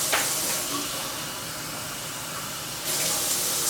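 Water pours from a cup into a pot of vegetable soup as a steady, close hiss, with a brief louder splash at the start and the stream strengthening near the end.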